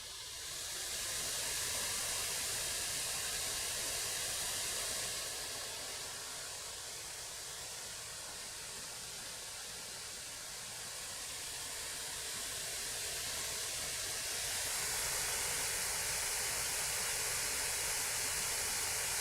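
Ninja Creami machine spinning its blade down through frozen sorbet, with a steady loud whirring hiss and an air-compressor-like rush that shifts slightly in strength over about twenty seconds.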